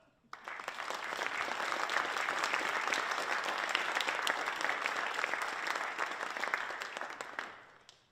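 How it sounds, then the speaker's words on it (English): An audience at a university physics lecture, the Begeman Lecture at UNI, breaks into applause that swells quickly, holds as a dense, even roar of many hands for several seconds, then tapers off to quiet. "let us applaud Richard"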